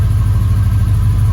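A Chevrolet Impala engine idles steadily at about 800 RPM, producing a loud, even low rumble with a regular pulsing throb, heard close and alone.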